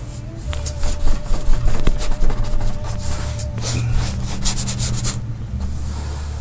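Brush or cloth rubbing paint across a grayscale fish painting, a continuous scratchy scrubbing in repeated strokes, close and fairly loud, with faint background hum.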